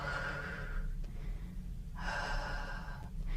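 A yoga instructor breathes out slowly during a beginner hip-mobility exercise, giving two long, soft, airy exhales separated by a brief pause, heard close and alone.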